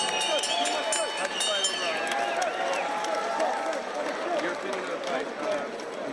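An arena crowd claps and cheers for two heavyweight boxers, David Tua and Robert Hawkins, after a ten-round fight. The applause is steady and dense throughout, with a ring announcer talking over it.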